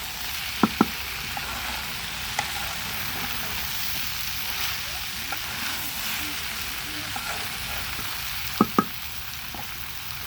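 Flat bean pieces being stir-fried dry in a pan give a steady, close sizzle with occasional sharp clicks of a utensil against the pan.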